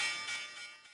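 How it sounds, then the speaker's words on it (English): A closing bell rings at the end of a stock market trading session, a bright sustained metallic ring that fades over about a second, heard without speech. "Right now, we are ringing the closing bell as we speak"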